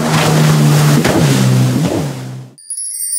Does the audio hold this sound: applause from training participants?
no